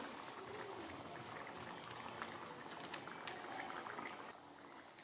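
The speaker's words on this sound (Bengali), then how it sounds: "ডাল ভালোভাবে ফুটে গেছে" Chickpea dal bubbling at a steady boil in a pot on a gas stove, a quiet, continuous fizzing simmer with small popping bubbles throughout.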